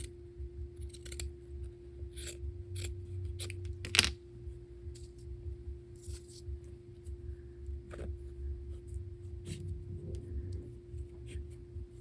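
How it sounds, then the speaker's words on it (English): Scissors snip through old, tough fabric in a steady run of crisp cuts, close and fairly quiet over a low background hum, with one louder sharp snip partway through. "So I just kind of cut it messy. I don't try to cut it straight."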